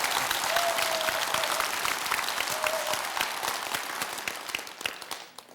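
Studio audience applause greets a guest on a Korean talk show about acupuncture and moxibustion, a dense steady clapping that gradually thins out and fades toward the end.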